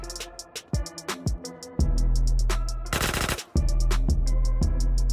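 Bursts of automatic gunfire in GTA San Andreas blast at a vent grate inside Area 69, rapid loud shots coming in short volleys with one sustained roaring stretch in the middle and no talk.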